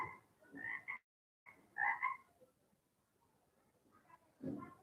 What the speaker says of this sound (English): I was looking for frog sound